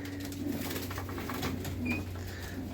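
Pigeons in a loft give soft, low cooing calls that run steadily through the whole stretch under a constant background hum, with a few faint bird chirps and rustles.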